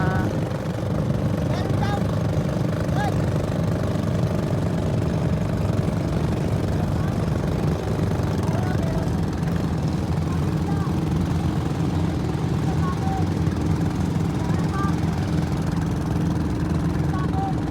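A fishing boat engine on Manila Bay drones steadily throughout, a low continuous rumble at moderate distance with faint background voices.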